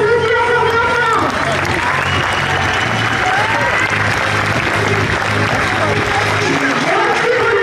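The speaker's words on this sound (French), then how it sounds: "on les applaudit encore bien fort" A large crowd applauds loudly and steadily at the 2015 Lauriers des Sports awards ceremony in Châtillon-sur-Seine, with faint music tones in the first second and at the very end.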